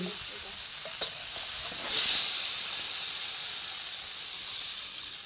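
Water hits a hot pan of rohu fish curry with cauliflower, potato and chui jhal, setting off a steady sizzling hiss that swells briefly into a louder burst, then settles into continuous close frying.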